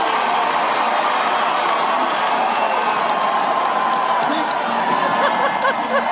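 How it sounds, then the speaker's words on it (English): Outdoor crowd cheering and whooping at the Punxsutawney Phil groundhog prediction in falling snow, a steady dense roar of voices and shouts throughout. "They're cheering?"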